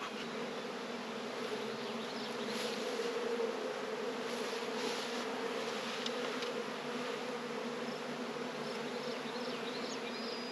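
Honeybees drone inside a crowded hive box, a sustained, even buzz heard up close with occasional louder individual passes, no talking.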